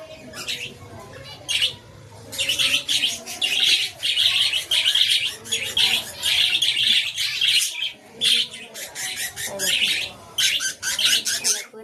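Pet birds chirping and tweeting in bursts throughout, a busy overlapping chorus of calls close by with occasional squawks, no talk.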